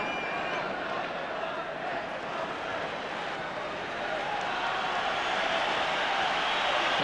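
A large football crowd at Celtic's ground roars in a sustained, broad wash of cheering that swells slightly toward the end, with no clear individual voices.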